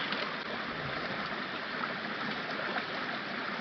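Stream water rushing at a hiking trail water crossing on the Ouachita Trail, a steady broadband wash and burble that stays constant and fairly loud throughout, with no talking.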